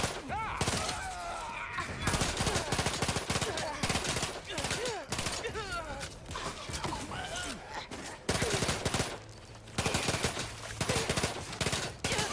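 Rapid automatic gunfire from the player's weapon in The Outer Worlds 2 rattles loud and near in long sustained bursts with short pauses, and a voice cuts in between volleys.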